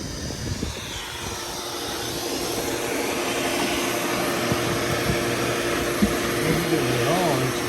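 A vacuum cleaner running inside a car during a wash of a ZL1, a steady loud motor whine with tonal hum and small bumps, while people talk over it.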